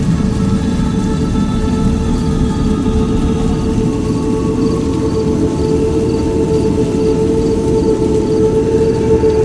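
Heavy rain pours without letup in an animated Hindi horror story, a dense, steady hiss of falling water with faint tonal hum beneath, loud and continuous throughout.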